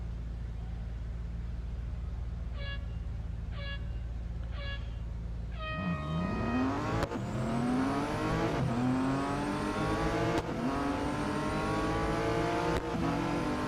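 BMW M4 GT4 race car in the Real Racing 3 mobile game at Melbourne, starting with a steady low idle and a few short chirps, then revving hard and climbing through gears with rising, sweeping engine tones.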